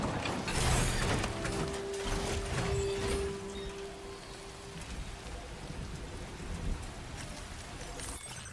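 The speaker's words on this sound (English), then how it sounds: "My poor bike is taking damage in the chiral rain." Chiral rain in Death Stranding 2 falling as a steady, dense hiss of drops on surfaces, with a brief tonal hum early on and a low rumble, continuous and moderately loud.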